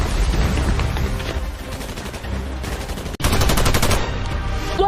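Machine gun fire in a film action scene rattles in loud, continuous rapid bursts with booming impacts, one brief cut partway through, then a dense renewed volley.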